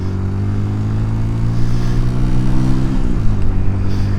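A Honda CD200 motorcycle engine revs steadily and loud with rich harmonic drone, rising in intensity midway, then briefly dipping in pitch as it shifts near the end.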